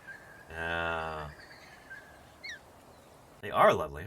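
A butcherbird makes a sustained squeaky note, then a brief chirp, and finally a loud, bright call close by, with voices talking quietly in the background.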